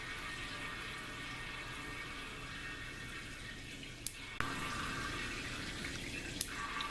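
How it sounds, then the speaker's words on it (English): Water from a Kelvin water dropper falls steadily into a bucket, a quiet continuous splashing hiss with faint crackles, broken by a sharp click near the middle and another shortly before the end, after which the tone of the falling water shifts. "You may also notice that there's a sound change of the water falling into the bucket"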